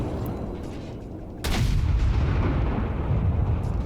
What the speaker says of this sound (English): he's firing the HE right to this Amagi as it beaches itself on the island